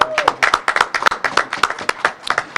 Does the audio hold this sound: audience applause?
yes